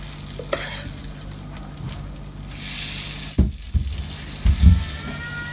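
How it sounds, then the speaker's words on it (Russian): Grated potatoes sizzle and crackle as hash browns in a hot pan, with a few dull knocks and scrapes of a utensil against the pan. "На сковороду мы выкладываем нашу картошечку"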